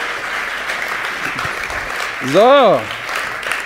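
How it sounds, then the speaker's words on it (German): An audience applauds steadily for a speaker being introduced at a business summit talk, a dense wash of clapping that persists throughout, with a short tonal sweep and one spoken word partway through. "Bitte einen großen Applaus für Manuel González."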